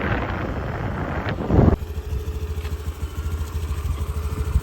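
A new Honda Activa scooter engine idles with a steady low putter after a brief gust of wind, running close and fairly loud.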